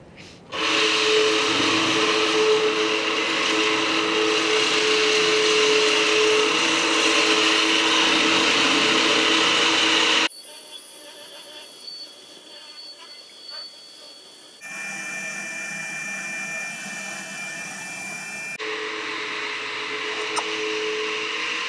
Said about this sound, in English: Basically, this floor grinder isn't working too great.